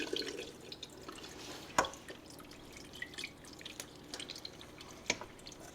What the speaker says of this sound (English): ready for you to squeeze that dry. You're going to get all the water out of it you can.